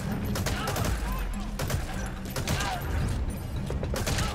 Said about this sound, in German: Boah, die schießen aber scharf hier.